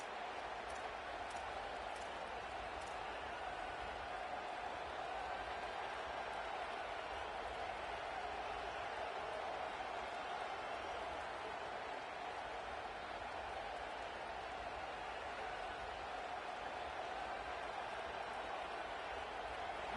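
Stadium crowd roaring at an Ohio State football game, a steady, dense wall of cheering and noise that holds at full level for the whole stretch with no pauses.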